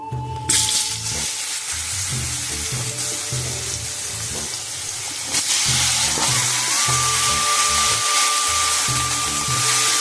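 Cut potatoes go into hot oil that was just used to fry fish and is seasoned with black cumin seeds. A loud sizzle bursts up and keeps crackling up close, then surges again partway through.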